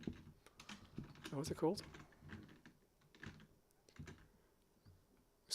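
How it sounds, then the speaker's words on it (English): Computer keyboard typing clicks along in quick irregular bursts, fairly quiet and close, with a person talking over part of it. "they're going to type"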